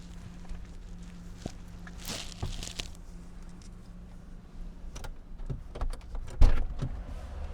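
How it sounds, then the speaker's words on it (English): Inside a parked car, a power window motor whirs as the glass lowers, mixed with faint rustling, a few clicks and knocks, and one louder thump near the end. "so I can put the window down for my dog"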